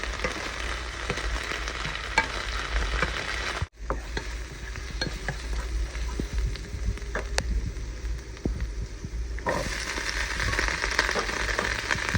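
Kale frying in olive oil with garlic, a loud steady sizzle and crackle that continues throughout with occasional stirring clatter and a brief dropout partway.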